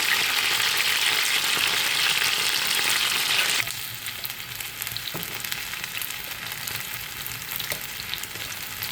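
Pieces of chicken 65 deep-fry in hot oil with a loud, close, dense sizzle that drops suddenly to a quieter bubbling crackle partway through, with no talking.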